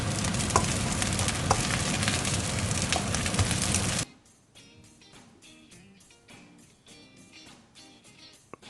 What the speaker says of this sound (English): there's a lot of mixing and stirring involved here